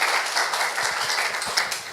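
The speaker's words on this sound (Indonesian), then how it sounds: "Boleh kasih tepuk tangan buat worship leader, singers, dan para musicians." A church congregation claps for the worship leader, singers and musicians at a sermon, a short burst of many hands applauding at moderate loudness, fairly steady and unaccompanied by speech.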